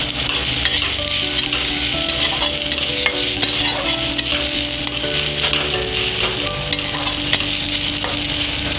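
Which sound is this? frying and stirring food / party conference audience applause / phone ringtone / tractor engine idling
frying and stirring food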